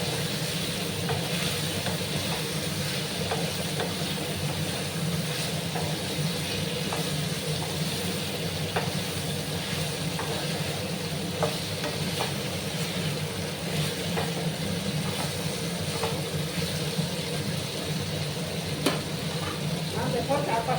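Egg and potato mixture sizzles steadily in a frying pan while being stirred, with a continuous loud crackling hiss and faint scraping throughout, close up.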